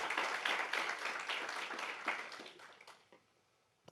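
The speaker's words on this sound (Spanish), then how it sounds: "Démosle un aplauso a Jesús, iglesia." A church congregation claps during a sermon, bursts of applause rippling at first and then thinning and fading to a few scattered claps.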